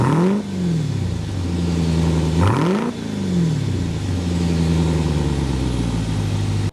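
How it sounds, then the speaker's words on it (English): The V8 exhaust of a 2025 Dodge Durango SRT Hellcat rumbles loudly close by, with two sharp revs rising and falling before settling back into a deep, throbbing idle. "start up this SRT so you can hear that exhaust note"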